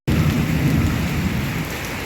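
Heavy rain pours down in a steady, loud, dense roar, with low thunder rumbling beneath it throughout, and no voices.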